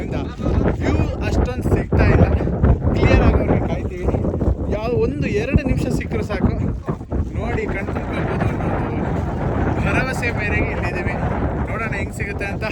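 Strong wind buffets the microphone in heavy, roaring gusts on a cloud-covered mountain summit at Gangadikal, Kudremukh, with people talking loudly over it.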